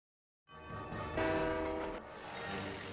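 Train horn blaring in a Disney Planes video game race against a train, a loud sustained blast over rumbling rail noise that swells midway and then eases slightly.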